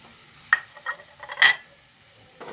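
Chicken kothu parotta with green chillies is stirred in a pan, giving a few scattered scrapes and light clinks over a faint sizzle, close and quiet, with no voices.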